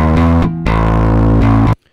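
A heavily distorted bass guitar, soloed and pushed hard through parallel processing, plays a loud, buzzing, sustained low note with a brief dip in the middle, then stops abruptly.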